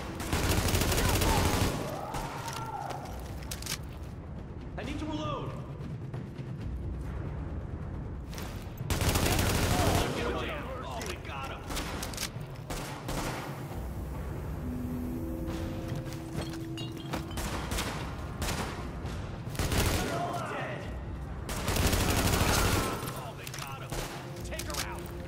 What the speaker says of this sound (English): Party's taking heavy fire from the roof.